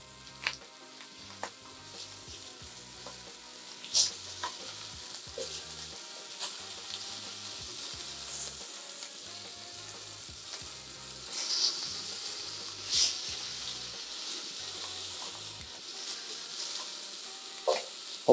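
Pork meat sizzles steadily on a Partner Steel camp stove outdoors, a continuous frying hiss broken by occasional sharp pops and scraping stirs, close and moderately loud with no talking.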